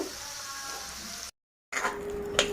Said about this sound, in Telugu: ఈ వేడివేడి నూనెలోనే పచ్చడి తీసుకుందామండి